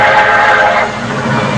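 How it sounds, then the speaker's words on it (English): A train rumbles steadily toward a grade crossing, loud and close, with a broad, sustained roar that swells and then eases slightly, heard alone without talk. "A train coming."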